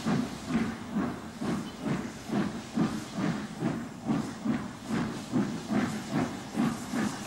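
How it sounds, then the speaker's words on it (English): The LNER steam locomotive Flying Scotsman, working on the Cumbrian coast, gives a steady run of rhythmic hissing steam chuffs at moderate distance. The beats are evenly spaced and fairly soft, with a constant hiss between them. "this is the locomotive, Flying Scotsman"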